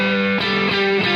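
An electric guitar through a distortion pedal at its highest distortion setting: heavily distorted chords ring out loud and saturated, changing a few times in a short buzzing riff.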